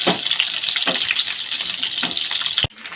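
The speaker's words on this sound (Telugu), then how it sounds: "ఎర్రటి మిరపకాయలు నూనెలో వేసుకొని గోలించుకోవాలి." Red chillies fry in hot oil, a continuous close crackling sizzle with soft stirring pulses, ending in a sudden knock and near quiet.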